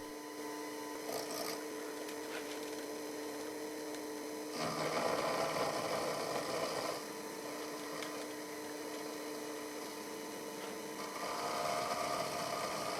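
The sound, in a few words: small milling machine cutting with 2-flute carbide end mill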